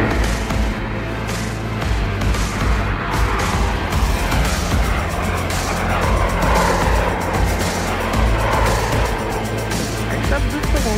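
An Alphajet fighter jet starts its takeoff roll after brake release, giving a loud, steady, broadband engine roar with rumbling wind noise that holds throughout and no spoken words.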